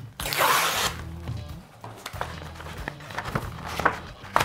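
A courier document package delivered by SDEK is torn open with a loud rip of plastic, followed by crinkling, rustling and scattered taps of handling at close range, with no speech.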